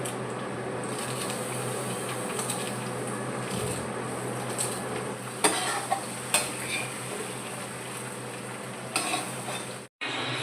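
Chopped coriander goes into a hot pan and is stirred through, a steady close sizzle with scraping utensil sounds and a few sharp clicks of spoon on pan, no voices.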